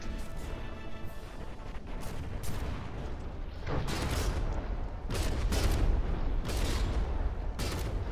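Naval turret guns fire between warships in a video game battle, a dense run of booming shots and crashing impacts that swell in bursts over a steady low rumble, with no talk.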